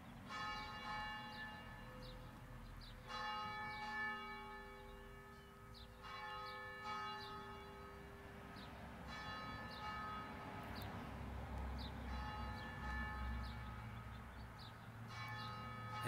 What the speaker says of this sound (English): we're waiting for the church bells here to ring